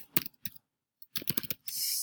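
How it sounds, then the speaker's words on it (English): Keystrokes on a computer keyboard come as a few scattered clicks, then a quick run of taps, ending in a brief rustling burst; close and fairly quiet. "Start typing."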